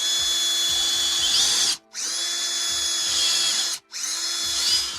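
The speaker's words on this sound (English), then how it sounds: "I was able to pull the spindles for each seat rail out and attach them to drills" Two power drills spin the seat rail spindles of a Porsche 930 Turbo. Their loud, steady whine runs in three long bursts, with two brief stops between them.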